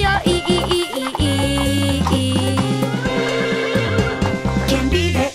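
A horse neighs and whinnies with clip-clop hooves inside a bright, steady children's farm song, the animal calls sitting over a full musical accompaniment with a regular rhythm.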